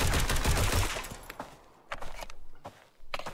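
Test-weapon gunfire in the video game Road to Vostok: a rapid automatic burst up front, then scattered single and short bursts of shots, with pauses of mechanical clicks and handling noise between.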